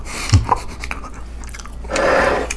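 Close crunchy chewing of sauced fried chicken with a few crisp bites, then a louder rustling crunch near the end; no talking.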